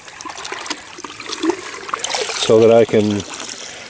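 Water sloshing and trickling as floating azolla is pushed aside at an azolla pit, soft splashing near the microphone while someone talks over it.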